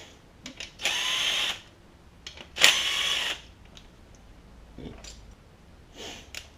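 A power tool fires in short bursts while removing head bolts from a car engine, likely a Mitsubishi Evo, with a couple of loud whirring pulls and faint clicks and rustles between them.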